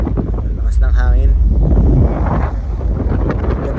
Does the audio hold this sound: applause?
no